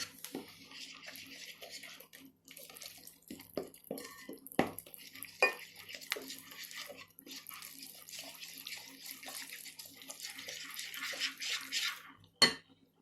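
Dough for the syrup-soaked Turkish karagöz dessert is stirred in a bowl, with steady wet scraping broken by sharp clinks of the utensil against the bowl and no voices.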